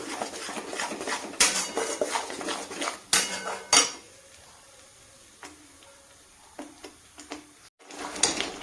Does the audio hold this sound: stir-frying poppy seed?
yes